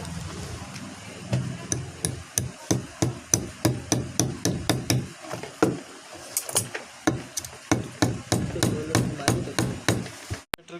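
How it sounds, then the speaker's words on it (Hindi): Hammer tapping laminations of a four-coil table fan stator into place, a steady series of sharp, close knocks at a quick, even rhythm, briefly pausing midway before resuming. "इसको थोड़ा ठोक कर हम बिठाएंगे।"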